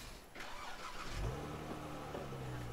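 A muscle car with a stock exhaust cranks and fires up, settling into a steady, smooth low idle that continues to the end at moderate volume, with no talking.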